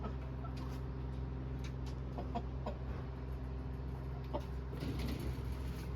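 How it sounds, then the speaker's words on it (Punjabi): A village rooster and hen cluck faintly in a yard, scattered short calls over a steady low hum, distant and quiet throughout. "ਇੱਕ ਮੁਰਗੇ ਇੱਕ ਮੁਰਗੀ"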